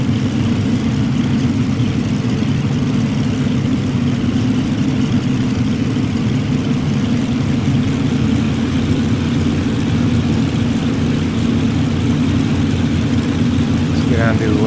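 The twin engines of a Cessna 310 in the X-Plane 11 flight simulator give off a steady, loud drone as they throttle up on the taxiway, holding constant throughout with no one talking.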